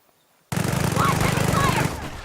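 Sustained heavy gunfire erupts suddenly in the Company of Heroes video game after a brief quiet start, a dense loud burst of rapid shots with a voice shouting over it.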